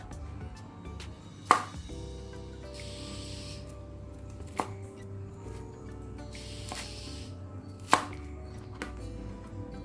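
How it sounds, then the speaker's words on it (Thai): A knife cuts through a washed 300-gram bunch of enoki mushrooms with the roots trimmed, making three sharp, spaced chopping knocks on a board over a steady low background hum. "หั่นให้ได้ชิ้นไม่เล็กไม่ใหญ่ค่ะ"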